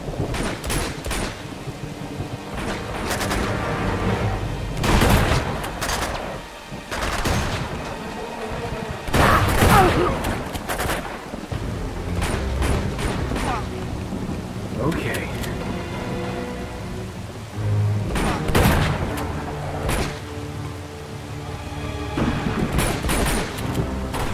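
Shotgun fire in the video game Uncharted 2, with repeated loud blasts in irregular bursts over rain-like ambience and other battle noise, while someone talks at times.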